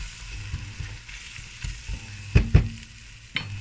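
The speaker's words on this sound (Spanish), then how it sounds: "Añado el pimentón. Remuevo rápidamente para que no se queme." Paprika hits hot oil in a pan with shrimp for spaghetti and is stirred quickly, giving a close, steady sizzle broken by the scrape and knock of a utensil against the pan, with two sharper taps near the end.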